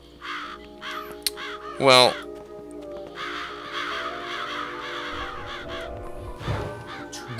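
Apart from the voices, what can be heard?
crows cawing in Psychonauts video game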